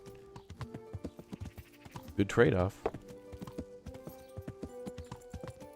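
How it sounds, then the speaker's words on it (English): Horse hooves clip-clop at a steady riding pace in the medieval game Kingdom Come: Deliverance, with a brief whinny partway through and someone talking over the hoofbeats. "Man, the horse riding is outstanding."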